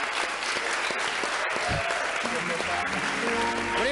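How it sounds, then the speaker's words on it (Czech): Steady, dense applause from a live television comedy-show audience welcoming a volunteer on stage, continuous and fairly loud for the whole stretch, with faint tonal sounds and some voice underneath. "zatleskejte mu"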